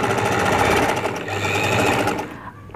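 A sewing machine stitches baby girl trouser fabric in a rapid, steady whirring run close by, then slows and stops near the end.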